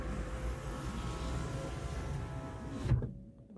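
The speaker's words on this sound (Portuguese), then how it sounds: "Vamos fechar os vidros aqui, ó. Vamos fechar do outro lado também." A car's electric windows close with a steady motor whine that runs for about three seconds, ends in a soft thump as the glass seals, and then goes quiet.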